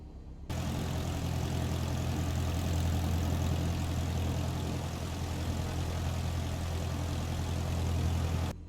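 An EA-7 Edgley Optica light propeller plane's engine idles in Microsoft Flight Simulator 2020, a steady low drone that holds evenly for about eight seconds, with no talking.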